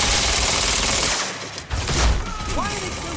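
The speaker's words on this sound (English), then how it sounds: "Why are they still shooting?" Enemy gunfire in the video game Quantum Break, a dense burst of rapid shots that drops away briefly, then returns alongside a swooping whistle-like effect, loud and close.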